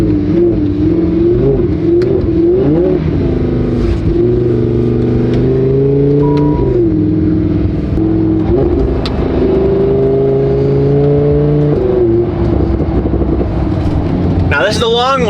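Lamborghini engine running on a dyno, a steady loud drone with rising and falling pitch sweeps like revving through gears, continuous for the whole stretch with a brief higher whine near the end.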